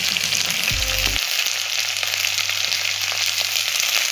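Onions and chillies fry in a pan with a steady, bright sizzle throughout, and a brief low thud of the pan early on.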